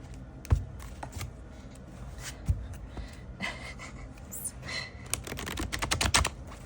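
Tarot cards riffle and slap together in uneven bursts, with scattered clicks and rustles building into a quicker flurry near the end.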